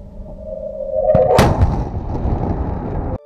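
A rocket cart carrying a nuclear bomb for a safety crash test roars as it accelerates, then hits with a sharp loud impact and a rumbling, crunching aftermath that cuts off abruptly.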